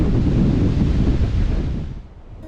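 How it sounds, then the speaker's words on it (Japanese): Strong wind in Sri Lanka, strong enough that a heavy man can barely stand, roars loudly across the microphone in a constant buffeting rush before easing off toward the end. "体重80キロのおじさんがまっすぐ立ってらんないぐらいの風が吹いてます。"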